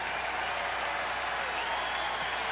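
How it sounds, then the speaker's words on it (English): Baseball crowd at Miller Park in a steady, broad wash of applause and murmur, sustained throughout at moderate distance with no distinct voices standing out. "the crowd reacting to the score being posted here at Miller Park"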